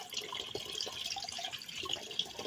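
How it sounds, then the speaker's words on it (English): Water runs steadily from a tap into a pot of rice being rinsed before cooking, a continuous soft splashing and trickling at close range, fairly quiet and with no talk. "One more time to put water in it and it's ready to cook."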